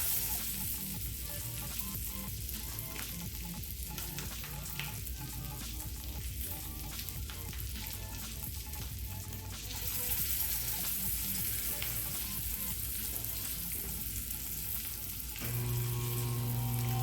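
Homemade deer sausages searing in a pan, a steady loud sizzle of frying fat that runs the whole time with crackling pops and a slight shift in tone partway through.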